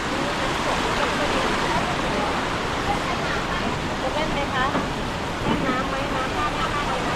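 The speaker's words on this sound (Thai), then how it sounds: "นี่ น้ำตกจักดินนะครับ น้ำตกจักดิน" Chak Din waterfall in Thailand rushes with a steady, loud broadband roar of falling water heard near the falls, while voices talk over it.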